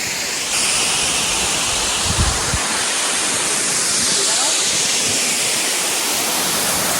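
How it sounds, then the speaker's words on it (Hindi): A large waterfall on a mountain road trip in northeastern India roars as steady broadband rushing water, loud and continuous throughout, with a brief low thump partway through. "बस ये देखो कितना बड़ा सा वाटरफॉल है।"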